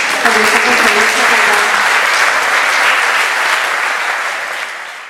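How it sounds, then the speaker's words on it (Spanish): Loud, sustained applause from an audience welcoming a speaker at a talk, a full room clapping steadily before it tapers off at the end. "recibámoslo con un aplauso"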